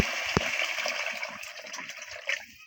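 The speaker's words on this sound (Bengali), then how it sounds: "আমি আবার পানি দিয়ে দিচ্ছি" Water is poured into a cooking pot of chana dal (split chickpeas) that soaked overnight, ready to boil. The pour gushes steadily and close, with a brief knock near the start.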